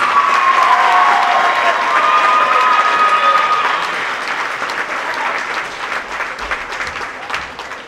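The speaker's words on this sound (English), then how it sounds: "could we have one final round of applause for all of our seniors here tonight?" A high school gym crowd at a volleyball game applauds and cheers for the seniors, a loud sustained roar of clapping that gradually thins out toward the end.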